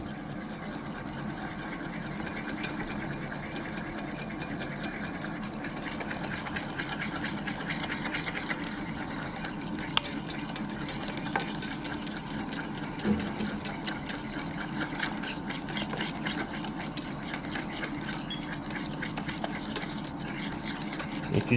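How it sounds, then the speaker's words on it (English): A whisk beats hollandaise sauce by hand in a bowl, making quick, continuous rhythmic ticking and clattering that grows slightly busier toward the end, with no talk. "So when you put this in, really thin to start with, and just keep whisking away."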